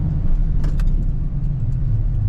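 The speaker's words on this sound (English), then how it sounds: "This truck has a good rumble in the exhaust." A 1987 Chevrolet Silverado K10 pickup cruises on dry winter roads in Minnesota, its exhaust giving a steady, deep low rumble heard from inside the cab with a few faint light clicks over it, no talking.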